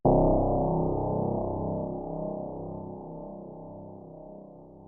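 Synth bass note from a FLEX preset in FL Studio, pitched two octaves down: one deep, dark sustained tone that starts sharply and slowly fades over several seconds, with nothing else heard.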